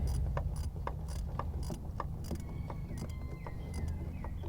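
Ratchet clicking in short repeated bursts while snugging alternator adjusting bracket bolts on a 2000 Mitsubishi Fuso truck, fairly close, with a low steady hum underneath and no talking.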